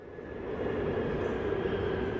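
A train rumbles steadily at close range at an underground station platform at Incheon Airport Terminal 1, a dense low roar with a faint high whine running through it, building slightly and then holding.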